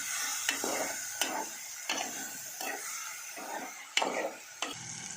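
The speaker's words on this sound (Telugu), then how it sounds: "ఈ విధంగా నూనెలో బాగా మరగాలి." Gongura paste frying in oil hisses steadily while a spoon stirs it in rhythmic strokes, each pass making a scraping, sizzling swell roughly every second, close and clear with no voices.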